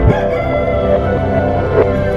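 A cartoon-style rooster crow with hen clucking fills the short stretch, loud and close, set among a village chicken seller's colourful hens carried in baskets.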